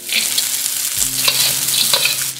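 Chili and ginger hit hot oil and stir-fry in a wok, giving a steady, bright sizzle with scraping stirs that runs without pause from start to finish.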